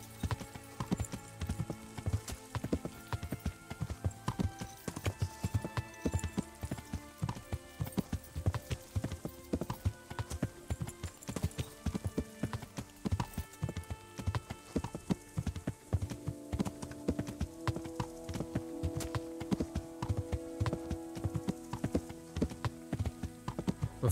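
Horse hooves clip-clop steadily in the medieval game Kingdom Come: Deliverance as a rider travels along, a dense continuous rhythm of hoofbeats with a faint whinny over music and ambient game sounds.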